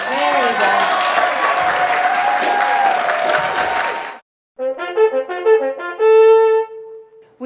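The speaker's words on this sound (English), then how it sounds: "give everybody a round of applause" Audience applause at an art show award ceremony rolls for about four seconds as a dense wash of clapping. It cuts off abruptly, and a bright melodic music passage follows.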